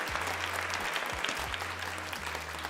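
Applause welcoming a newcomer named Lisa during a casual LEGO building livestream, steady clapping throughout with a low repeating hum and tonal bursts underneath.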